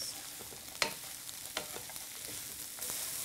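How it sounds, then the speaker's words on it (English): Onions, mushrooms and orange peel stir-fry in a hot wok, with a steady low sizzle under a few sharp scraping clicks of the spatula spaced about a second apart. "We're going to stir fry this for 3 to 5 minutes, depending on how hot your wok is"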